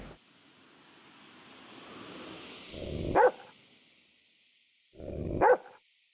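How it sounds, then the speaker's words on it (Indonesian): A dog barks twice in the horror video game Yomawari: Lost in the Dark, each a short, loud bow-wow burst a couple of seconds apart over a faint, dark ambient hiss. "Gonggong doang."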